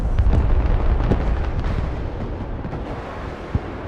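Booming mortar and artillery impacts rumble in the Broken Arrow strategy game. Low, heavy explosions roll together with the loudest bursts early on, then ease into a softer rumble, with one sharp pop near the end.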